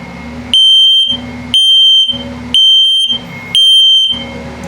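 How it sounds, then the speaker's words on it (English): An RV detector's low-battery alarm under test emits four loud, shrill chirps, each about half a second long, repeating at a steady rhythm with brief gaps between them. "And then low battery alarm."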